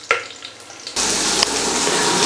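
Water poured into a pressure cooker for cooking basmati jeera rice. After a faint knock, a loud, steady gushing rush starts abruptly and keeps going close by, with no talking.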